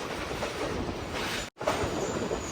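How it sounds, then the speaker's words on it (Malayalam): A passenger train from Badulla arriving at Colombo Fort railway station, heard as a continuous loud rumble and rattle of rolling carriages, briefly cut out midway, then resuming steadily. "ട്രെയിൻ ഇതാ കൊളംബോ ഫോർട്ട് റെയിൽവേ സ്റ്റേഷനിലേക്ക് എത്തിയിരിക്കുകയാണ്"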